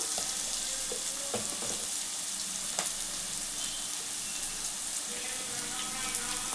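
Ginger garlic paste frying in a pan for a Telangana-style fish curry, a steady, dense sizzle close by with a few soft spoon taps and scrapes rising above it.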